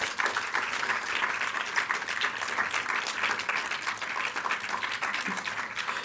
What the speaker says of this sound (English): Can we get another huge round of applause this time?